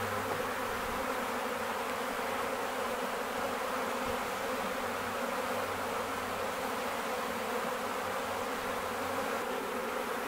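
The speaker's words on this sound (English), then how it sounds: "Can you guys hear the bees?" A honey bee swarm buzzes in a park in London, a steady, even drone of many wings holding at a low, fairly distant level with no talking.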